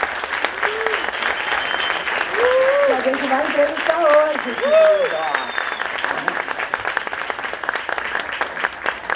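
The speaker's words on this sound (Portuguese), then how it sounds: "Palmas" Studio talk show audience applauding a Brazilian filmmaker guest, a sustained even wash of clapping while a voice speaks over it in the middle.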